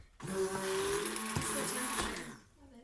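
Close whirring motor hum of a stick blender mixing hot process soap, running for a couple of seconds, starting and stopping abruptly, fairly quiet.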